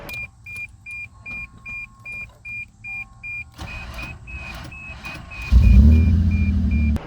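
A 1985 Toyota Supra with a worn old starter: a steady repeating chime beeps for several seconds, then the starter cranks roughly and unevenly before the engine catches with a loud, low rumble close by.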